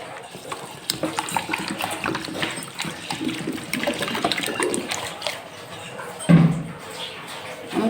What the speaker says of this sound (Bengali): চাল ডালটা আমি প্রথমে ভালো করে ধুয়ে নেব জল দিয়ে